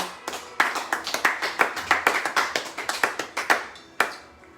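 A worship congregation claps in a quick, fairly regular rhythm, about twenty sharp close claps over a few seconds that stop with one last clap, no voices.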